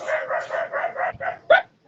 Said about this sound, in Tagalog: aso daw dyan, aso